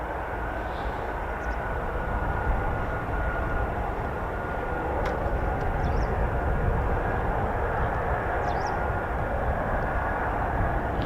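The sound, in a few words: two military jet aircraft flying, Bolt flight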